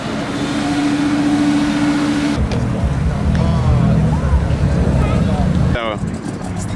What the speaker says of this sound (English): So we have a little bit of a rev fest going on here